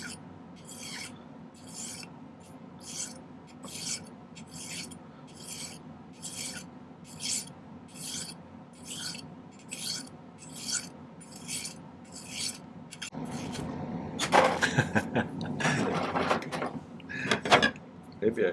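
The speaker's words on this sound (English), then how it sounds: "I think I'm going to start by filing" Steady rhythmic rasping of a hand file on silver metal for earrings, repeated strokes close by, shifting to busier, louder filing and rubbing toward the end.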